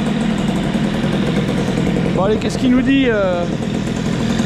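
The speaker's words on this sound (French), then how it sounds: "Un petit moteur hybrido. Prêt à aller faire un tour." Small scooter engine fitted with an Airsal CPI 70 kit running steadily at idle, a continuous buzzing drone throughout, with someone speaking briefly over it.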